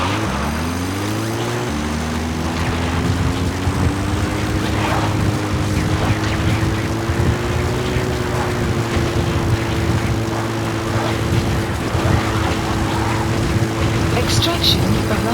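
A support helicopter arriving in the Metal Gear Solid V video game, a loud, continuous rotor and engine drone whose pitch rises slightly as it comes in and then holds steady.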